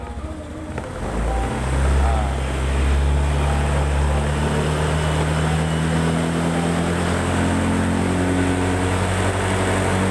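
A motorcycle engine runs steadily while the throttle is opened slowly during a charging-system and battery voltage check, giving a continuous low drone that swells a little and holds, with no talk over it.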